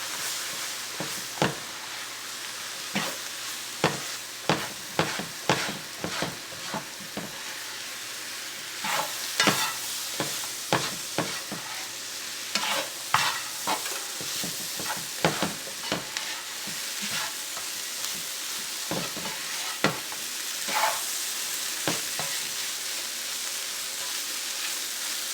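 A spoon stirs flour into mushrooms cooking in a pot for cream of mushroom soup, giving repeated scraping strokes over a soft, steady sizzle. The strokes are irregular and close, with no talking.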